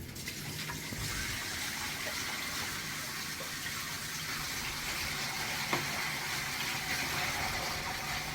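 Water pours steadily into a White's tree frog tank being set up as a bioactive enclosure, a continuous gushing fill at moderate level with a few faint knocks and no talking.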